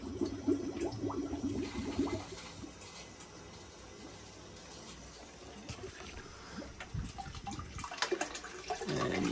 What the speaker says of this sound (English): To flush some clean cold water through